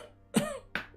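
A voice mimics an injured warrior waking, giving a rough throaty grunt and then a short cough, both close and brief with a pause between.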